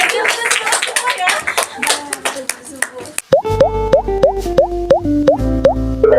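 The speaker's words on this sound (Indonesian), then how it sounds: "Tepuk semangat." A class of students performs a rhythmic cheer clap in a classroom, a run of sharp, quick group claps mixed with shouted voices, followed by a sequence of bright stepped tones.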